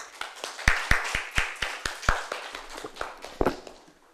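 Scattered claps at a conference presentation come as a sparse, uneven series of sharp individual hand claps, fairly close, thinning out toward the end.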